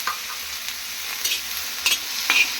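Mint leaves and garlic fry in a pan for a hotel-style methi bath, with a close sizzle and short bursts of spatula stirring and scraping, no one talking.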